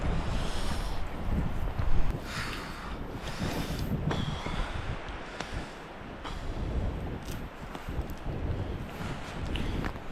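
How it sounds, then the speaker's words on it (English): Cold wind blows at Burt Dam, a continuous loud rumbling rush buffeting the microphone with gusts, surging strongest around two seconds, no speech. "Ooh, that wind is cold."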